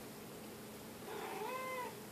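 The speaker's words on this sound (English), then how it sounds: "did y'all hear the kitty?" A house cat gives one short meow in a quiet room, faint and brief, after a stretch of soft background hiss.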